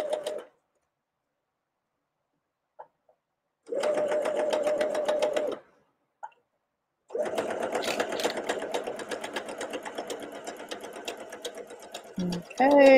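A sewing machine stitches a jacket neckband in loud, steady whirring runs separated by silences, with short bursts and isolated clicks between the longer stitching passages.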